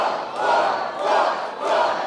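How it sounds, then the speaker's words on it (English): Wrestling crowd in Norfolk roaring in loud, swelling waves, rising and falling about three times as fans rally behind a wrestler in the ring. "You hear him feeding off of this crowd."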